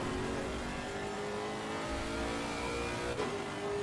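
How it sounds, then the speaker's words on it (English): A race car engine in Assetto Corsa Competizione revs hard and accelerates, a steady, loud, dense engine roar with a brief gear-shift blip near the end, no talk. "I still really like how this car sounds."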